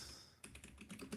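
Quick, faint keystrokes on a computer keyboard at a desk, a brief burst of close clicks tapped in an uneven rhythm with no talk.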